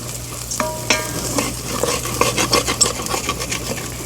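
Rice being stirred in a pot for Mexican rice, with a steady run of soft scraping and sizzling stirs close by, several sharper clinks of the spoon against the metal, and a constant low hum underneath.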